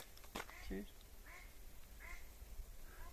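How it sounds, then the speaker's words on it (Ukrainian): A duck quacks several times in short nasal calls, fairly faint, amid low background rumble and a brief voice. "О, качка."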